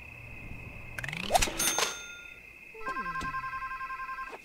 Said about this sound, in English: We have a telephone call.